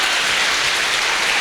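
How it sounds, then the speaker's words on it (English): Crowd applause at the close of a conference talk about playing games in the browser, a steady dense wash of many hands clapping, loud and sustained throughout with no voices on top. "Give yourselves a round of applause."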